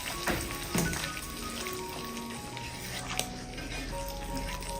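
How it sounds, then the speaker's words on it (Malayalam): Hot roasted cashews poured into pumpkin halwa and stirred, giving a steady sizzle and frying hiss with a couple of sharper clinks and scrapes near the start, close and continuous. "ഇനി നമ്മൾ റോസ്റ്റ് ചെയ്തെടുത്ത കശുവണ്ടി ആ ചൂടോട് കൂടി തന്നെ ഈ ഹൽവയിലേക്ക് അങ്ങ് ഒഴിച്ചു കൊടുക്കാം"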